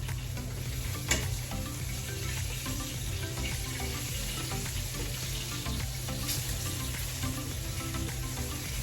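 Steady sizzling of food frying in a pan, close and continuous, with a couple of faint clinks of stirring.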